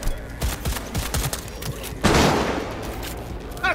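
Gunfire in Cyberpunk 2077 breaks out as a quick run of sharp close shots, then a louder burst of rapid fire with a heavy boom, followed by scattered lighter cracks.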